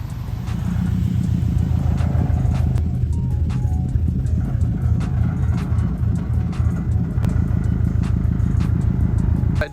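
Close inside a Subaru STI cruising around a residential neighborhood, the engine and road rumble fill the cabin with a loud, continuous low drone that pulses gently with throttle changes, with no talking.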